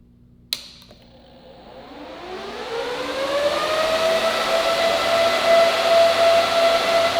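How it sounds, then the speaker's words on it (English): A Pandaminer B3 Pro GPU crypto mining rig's fans spin up from quiet into a loud, steady whirring roar with a sharp high-pitched whine running on top. "One of my biggest complaints with the Pandaminer yet again is the noise it makes."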